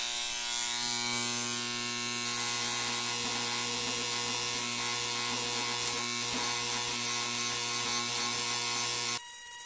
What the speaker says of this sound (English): we're going to micro weld a layer of tungsten carbide onto the locking face